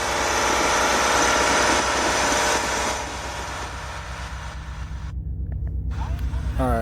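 A diesel engine runs at a steady, throbbing idle, loud and close, its pitch and level dropping slightly midway, with a person talking briefly toward the end.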